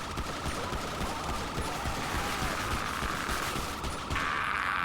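Sustained rapid gunfire rattles through a GTA roleplay police shootout with a suspect hiding in a bush, a loud, continuous volley of shots with a steady tone running underneath.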